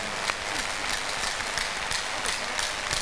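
Church crusade congregation applauding for Jesus, a dense steady wash of many hands clapping throughout, fairly distant and even, with no clear voice on top.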